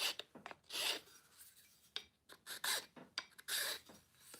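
Sandpaper worked by hand over a wooden tobacco pipe, close-up rasping strokes in an irregular rhythm of short and longer rubs with brief pauses, quiet and alone.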